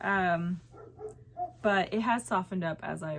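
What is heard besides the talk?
dog barking outside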